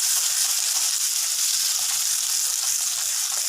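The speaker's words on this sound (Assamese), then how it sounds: "আৰু মই ধুনীয়াকৈ ভাজি ল'ম" A paste of tomato, cashew and ginger fries in hot oil for paneer masala, giving a loud, steady, close sizzle that runs unbroken throughout with no voices.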